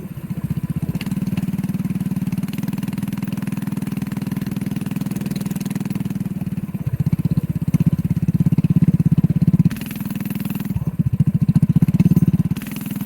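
A go-kart engine runs at low throttle, a steady close putter with a couple of brief rises in pitch and load.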